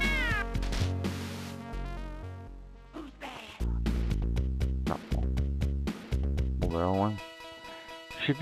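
Cats meowing in the Moonwalker video game, with repeated harmonic meows over game music and effects, loud and close amid other in-game sounds.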